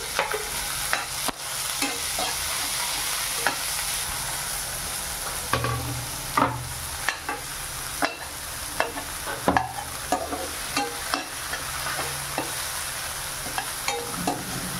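Onion and tomato sautéing in a hot pan, a steady sizzle broken by repeated sharp scrapes and knocks of a spatula stirring, with no talking.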